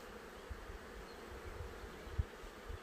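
Honeybees buzzing at an open hive while frames are handled, a faint, steady low drone with a few brief louder passes of bees flying close by.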